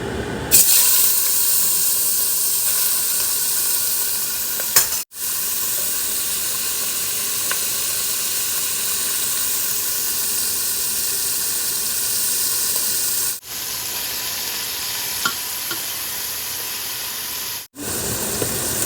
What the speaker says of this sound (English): Oil is really hot, so I'm going to add the beef now.